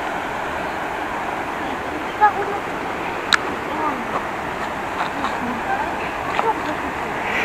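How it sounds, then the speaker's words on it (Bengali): Water of a river at a North Bengal picnic spot gurgles as a steady broadband rush, with a few faint clicks scattered over it. "নদীটার একটা কুলকুল শব্দ শুনতে পাচ্ছেন?"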